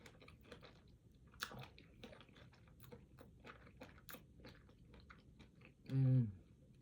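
Someone chews a crunchy breakfast of sweet potatoes, strawberries and nuts up close, with quiet, irregular crunching bites in a steady rhythm, then a short louder burst near the end.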